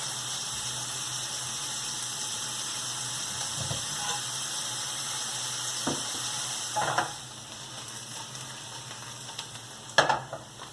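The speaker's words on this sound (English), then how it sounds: "I'm going to add a little bit of salt. In order to sweat out the onions." Chopped onions sweat with a pinch of salt in a pan for a vegetarian lasagna, giving a steady low sizzle with a few soft utensil scrapes and clicks near the end.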